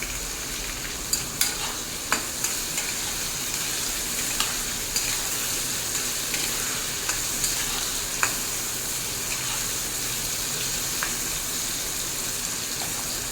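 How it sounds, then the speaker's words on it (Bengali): Pointed gourd (potol) frying in hot oil in a pan, a steady loud sizzle throughout with occasional stirring clicks and scrapes, no voices. "পটলটাকে তেলে দেখুন ভেজে নিচ্ছি"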